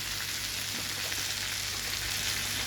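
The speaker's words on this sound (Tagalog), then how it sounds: "Pinirito ko siya sa margarine." Mackerel frying in margarine in a pan: a steady, dense, loud sizzle and crackle that holds constant throughout, with a low hum underneath and no talk.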